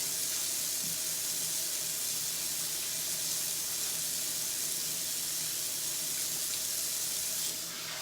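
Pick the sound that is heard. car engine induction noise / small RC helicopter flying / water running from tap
water running from tap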